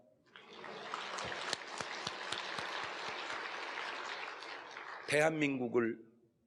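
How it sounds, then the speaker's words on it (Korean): A church congregation applauds during a sermon, a steady, dense clapping that builds quickly and holds evenly for several seconds, followed near the end by a short burst of a voice as the applause fades. "고개 숙여서 박수 치면서"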